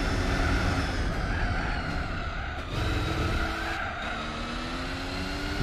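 A racing car in Gran Turismo 4 overtakes a Chevrolet, its engine droning steadily and loudly throughout, with pitch sweeps as the gears change and brief dips in the roar, with no talk over it.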